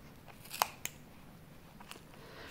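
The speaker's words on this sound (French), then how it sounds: "Ensuite, on va venir découper les franges à l'extrémité" Scissors snipping the yarn fringe ends of a knitted tassel: two sharp, close snips in quick succession, then a fainter one, over a quiet room with no talking.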